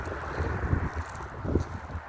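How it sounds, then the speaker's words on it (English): Strong wind blowing outdoors on a very hot day, a rough buffeting rush striking the microphone in uneven gusts, loudest around the middle and near the end, with no talking. "The wind has picked up significantly."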